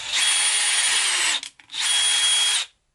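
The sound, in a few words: power drill pre-drilling holes in lumber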